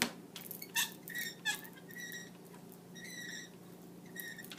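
A printmaking ink roller rolls out ink on a block, giving faint, sticky, tacky crackles and a series of high squeaks in short irregular strokes, close and quiet.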